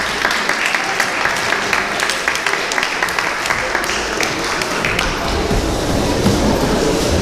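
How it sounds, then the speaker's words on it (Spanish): Audience applause fills a hall at a religious gathering, a dense steady wash of clapping lasting several seconds at moderate loudness, with murmured voices mixed in. "Un aplauso para Richard."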